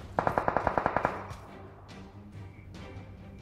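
In a video game, a rapid burst of about ten gunshots fires toward a high tower, a sharp evenly spaced volley followed by a few fainter, more distant shots.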